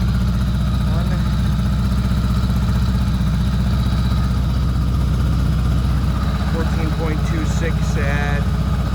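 A Honda Goldwing GL1000 motorcycle engine idles near 1100 RPM with a steady low rumble and constant drone, close and loud throughout while a person speaks over it.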